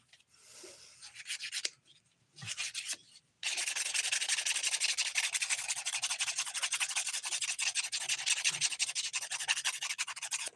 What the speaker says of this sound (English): Just using 180 grit side of the file to smooth it out.